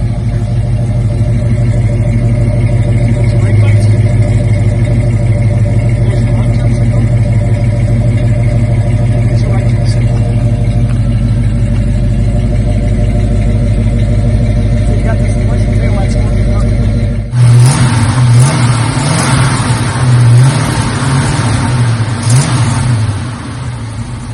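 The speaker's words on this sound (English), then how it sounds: "Nice idle, revs well, and looks good while doing it." A 1968 Mercury Cougar engine idles with a steady low rumble, then revs up louder and rougher for several seconds near the end.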